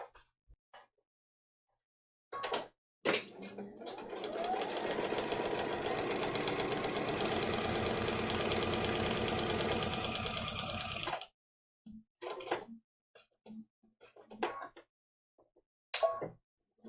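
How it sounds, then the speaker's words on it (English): A sewing machine stitches a quilt seam in one steady run of about eight seconds, close and loud, with a short burst just before and soft handling clicks and rustles after it stops. "So we're going to go back and we're going to sew this seam."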